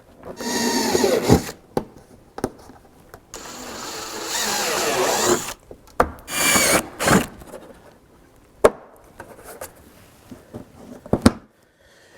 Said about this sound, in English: You just want to kind of drill it a little bit.